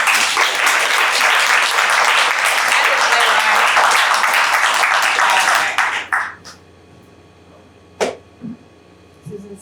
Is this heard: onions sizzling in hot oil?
no